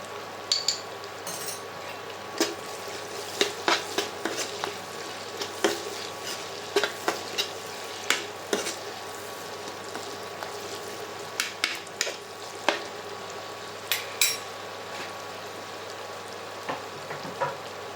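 Onions frying in a pan with oil for gongura pulao, a steady soft sizzle under repeated scraping and clinking of a metal spoon stirring against the pan, close and without talk.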